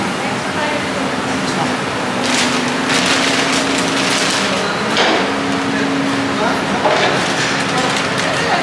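Metal spatula chopping sisig on a hot griddle, a steady clatter of scraping and tapping strikes over sizzling and busy background noise, with people talking nearby.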